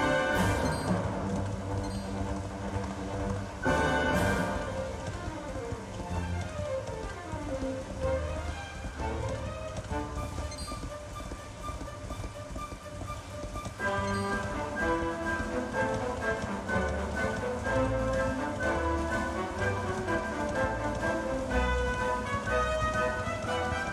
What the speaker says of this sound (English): Now stop raining.